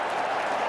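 A football stadium crowd at a Packers–Jets game roars in a brief, steady wall of cheering and clapping, dense and sustained with no breaks.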